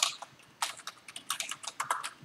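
Computer-keyboard typing in short quick bursts, close distinct key clicks with a brief pause near the start, quiet and heard alone without talk.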